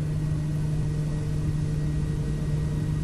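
A steady, droning aircraft engine hum from a Kodiak in a flight simulator game, with a constant low tone, unchanging and continuous, with no voices.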